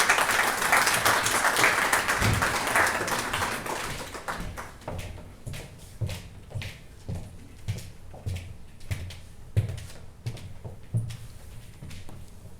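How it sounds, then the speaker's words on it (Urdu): An audience at an evening Urdu literary book event claps, starting as dense loud applause that thins out into scattered individual claps and a few taps as it fades. "آپ کی بہت تالیوں میں میں اسما کو بلانا چاہوں گی پوڈیم پر پلیز"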